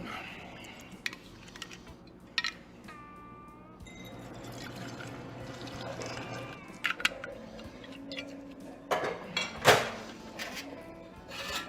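Liquid pours and trickles into a glass amid clinks, taps and small clatters of bar tools, quiet and close with no talking.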